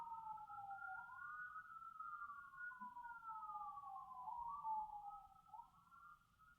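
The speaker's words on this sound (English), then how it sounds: "and here comes an ambulance." Ambulance siren passing at a distance, a faint wailing tone sweeping up and down repeatedly over a low background rumble.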